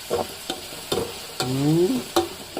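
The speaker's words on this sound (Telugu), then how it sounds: "ఆయిల్ వేసేసి ఉల్లిపాయలు బాగా మగ్గిపోయినాయి." Onions fry in oil while a spoon stirs them in a pan, giving a few rhythmic scraping strokes over a light sizzle, one stroke drawn out into a squeaky scrape.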